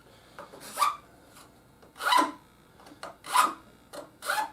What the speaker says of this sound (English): you take the edge of the file and you can just take all the burr off it like that